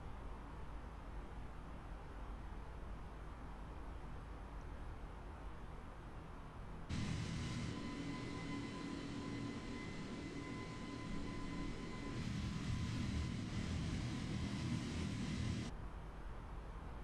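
An Airbus A320 cruises in Microsoft Flight Simulator, giving a steady broadband cabin engine drone that grows louder and fuller partway through, with faint tonal hums and no talking.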